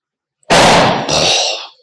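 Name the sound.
Diwali firecrackers bursting outside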